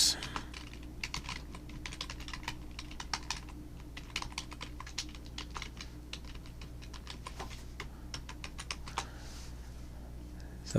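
Quiet, rapid key clicks as a password is typed on a computer keyboard, irregular taps continuing through the whole stretch with no speech.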